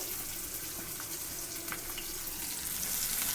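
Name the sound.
onions frying in oil until crisp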